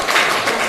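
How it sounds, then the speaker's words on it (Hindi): Children in a madrasa classroom in Lucknow clapping together, a brief burst of dense, loud applause from a group nearby. "ताली बजा दो अपने लिए और मेरे लिए भी।"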